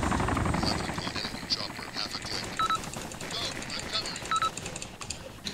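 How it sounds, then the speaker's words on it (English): Enemy Mi-24 helicopter in the video game Arma 2, a steady rotor drone running through the whole stretch beneath gunfire bursts, radio-style beeps and frequent excited voices of players talking over it. "6 o'clock, enemy chopper, 200 meters."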